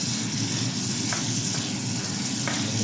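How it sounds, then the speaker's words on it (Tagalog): Pork tenderloin stir-frying in a hot pan for pork igado gives off a loud, continuous close-up sizzle that holds steady throughout, with a couple of faint clinks and no talking. "Mag-start naman tayo maggisa ng ating pork tenderloin."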